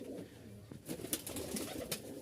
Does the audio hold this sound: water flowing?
no